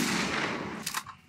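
A Desert Eagle pistol fires in a first-person shooter video game: a steady background rumble, then a sharp, quick shot or two near the end.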